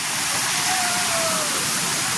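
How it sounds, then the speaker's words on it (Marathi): A waterfall at Panderi in Mandangad, Konkan, pours down on both sides in a loud, continuous rushing roar, close and steady with no break. "धबधब्यावरती आलेलो आहोत आपण मित्रांनो दोन साईडने पाणी जात आहे"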